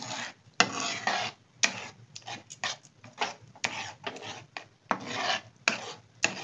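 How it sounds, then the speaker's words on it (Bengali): Egg and milk mixture stirred slowly in a pan for a mushroom egg breakfast, giving rhythmic, fairly soft scraping strokes with brief pauses between them. "যতক্ষণ না এটা ক্রিমের মতন হয়ে যাবে, স্মুথ হয়ে যাবে, ততক্ষণ ধরে এটা নেড়ে নেড়ে এরকম করে মেশাতে হবে দুধের সঙ্গে।"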